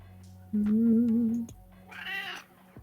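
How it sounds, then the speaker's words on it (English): A house cat meows close by in a long drawn-out call, then gives a second shorter, higher meow after a brief pause, with a steady low hum underneath. "We're joined by one of Amanda's cats."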